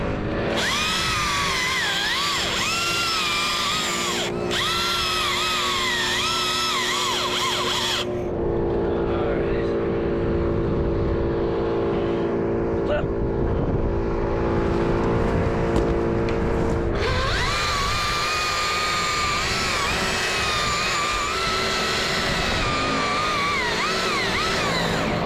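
A grapple truck runs at a tree removal job, its engine and hydraulics droning steadily with changing whines and tones throughout, loud and close, with talk mixed in.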